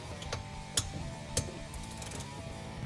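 A ratchet clicks in short bursts while the carrier bearing screws on a Can-Am Maverick X3 are tightened, faint mechanical ticks over a low background hum.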